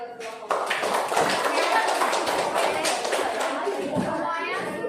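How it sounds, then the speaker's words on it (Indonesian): Classroom of children clapping for two student groups, a dense steady patter of many hands starting after a brief moment and continuing throughout, with young voices chattering underneath. "tepuk tangan buat dua kelompok"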